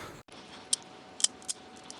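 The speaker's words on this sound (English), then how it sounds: "With the tin snips, you just want to go around the edge and cut the edges of the metal off." Tin snips cut the metal edges of an AN hose end, giving three sharp, distinct snips spaced through a quiet workshop moment with no talk.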